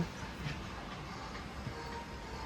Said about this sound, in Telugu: ట్రైన్ అయితే స్టార్ట్ అయింది